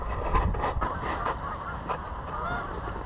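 Canada geese honk repeatedly by snowy Lake Ontario after a storm, a scattered flock calling at middling distance over a steady outdoor wash, with no voices over them.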